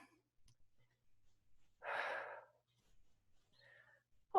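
A single soft exhale while standing up during a HIIT workout, one short breathy puff, close and quiet in an otherwise silent room.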